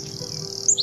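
A wren calls in short, bright chirps that rise into a few high, quick notes over a steady insect-like hiss. The bird sounds close and clear, and no voices are heard.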